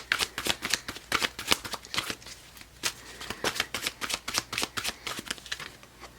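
Tarot cards being shuffled during a spiritual eclipse reading, a steady run of crisp riffling snaps and flutters in quick bursts, close and fairly loud, with no talking.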